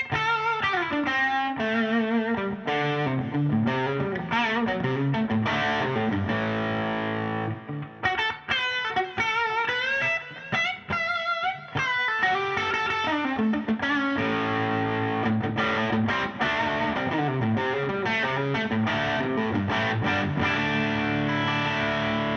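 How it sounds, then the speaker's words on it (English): Electric guitar played live through heavy distortion and effects with several flavors of distortion, sustained chords and riffs with a brief choppy break midway, loud and continuous with no talking. "Different flavors of distortion in there"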